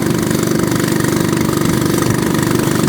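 Steady vehicle engine running continuously while being driven on a rural road in Champasak province, Laos, a loud, even mid-pitched drone with a slight rough pulse and no talk.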